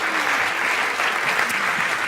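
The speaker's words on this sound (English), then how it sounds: "Let's give them a big round of applause for participating." A crowd of participants and onlookers at a sign-language gathering gives a brief burst of loud, dense clapping that stays even from start to finish.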